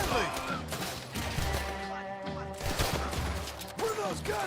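Gunfire in Cyberpunk 2077 crackles in dense bursts and volleys throughout, mixed with game music and other effects, loud and busy with no pause.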